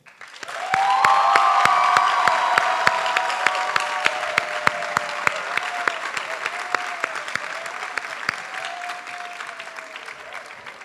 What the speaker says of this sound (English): let us also take a moment, with a loud applause this time, to thank all those whose contributions have helped bring you to this day.